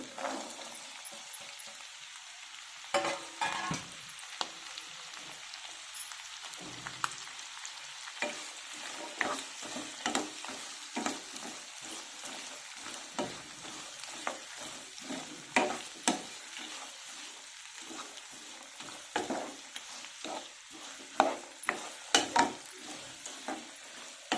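Beans and potato pieces frying in a pan for vegetable pulao, a soft sizzle with repeated sharp scraping and clinking from stirring, fairly quiet and close.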